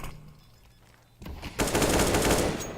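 Automatic rifle fire through walls in a Counter-Strike: Global Offensive match, a rapid sustained burst that starts after a quieter stretch and stays loud and dense to the end.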